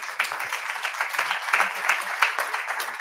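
A conference audience at a clinical oncology pharmacy meeting applauds a speaker, a steady soft patter of many hands clapping at moderate distance with speech mixed in.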